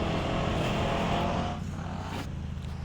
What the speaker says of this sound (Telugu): కింద నుంచి పెద్ద ట్రాక్టర్ అయితే వెళ్తుంది గాయస్, అందుకే సౌండ్ వస్తుంది.